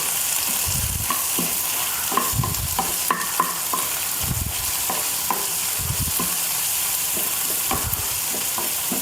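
Crushed garlic and ginger fry loudly in a pan, a continuous sizzle broken by repeated scraping strokes of a stirring spoon at a steady rhythm, close and without talk.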